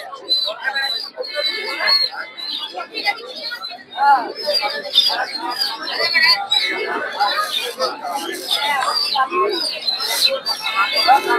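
Busy chatter of many pigeons and other birds, cooing and chirping all around, mixed with people talking nearby at a crowded, lively bird and pigeon market in Narsingdi.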